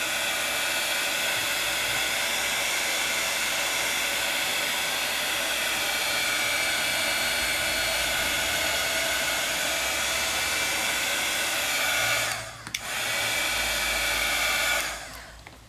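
Heat tool blowing steadily to melt embossing powder into plastic, a continuous close airy roar that cuts out briefly near the end and restarts.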